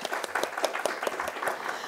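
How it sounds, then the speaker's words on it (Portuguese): An audience at a retail business gathering claps steadily in brief, moderately loud applause from a modest group of people. "Palmas para o Fabrício"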